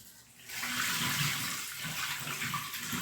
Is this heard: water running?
yes